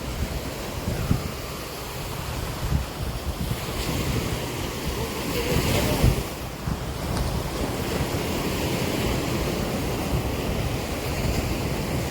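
Ocean waves on Varkala beach in Kerala, a continuous roar of surf with wind buffeting the microphone, swelling slightly around the middle, with no talking.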